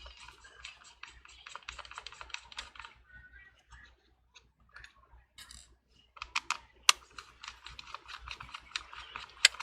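Screws being backed out of a MacBook Pro bottom case: fast clusters of small dry clicks and ratcheting ticks in bursts, close by and crisp, with short quiet gaps between runs.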